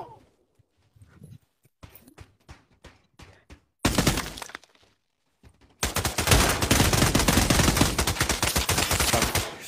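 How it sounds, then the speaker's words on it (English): Gunfire in the virtual reality shooter Pavlov starts as a sparse string of separate clicking shots, then turns into loud, close bursts and a long, dense automatic volley. "Somebody's shooting at me."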